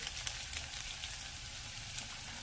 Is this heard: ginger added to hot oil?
yes